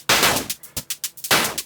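Crushed 8-bit explosion-style drum hits from a Dreadbox Dystopia synthesizer: a loud, noisy burst, then a rapid run of short, punchy hits like gunfire, and a second big burst near the end, with no voices.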